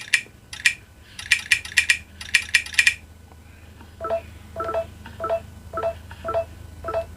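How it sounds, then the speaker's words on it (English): Crisp electronic beeps and clicks from Xiaomi Mi 11 and Poco X3 phone interfaces running MIUI 12.5 tap out in quick irregular bursts, first higher-pitched, then a lower set of evenly spaced tones. "the sound effects are completely different in both the phones"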